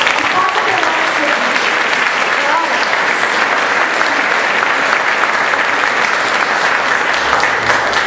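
A church congregation applauds during a worship service, steady dense clapping that fills the room for several seconds, loud and sustained with voices mixed faintly underneath.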